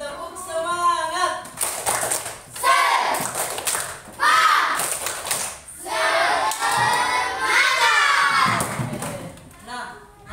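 Classroom children perform a rhythmic tepuk semangat clapping chant, loud group shouts and chanted syllables alternating with bursts of claps and thumps, close and energetic.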